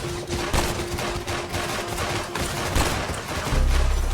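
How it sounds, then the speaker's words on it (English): Gunfire in the Love and Deepspace video game, heard as a dense, continuous hail of rapid shots with a steady tone running underneath, loud throughout and swelling near the end. "Don't these gunshots sound good?"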